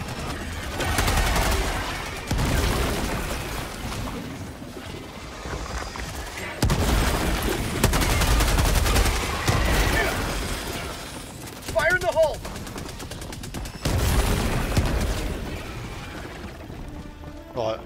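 Helldivers 2 battle: a grenade blast amid heavy, continuous gunfire and booming explosions, loud bursts rolling in waves, with players talking over the chaos.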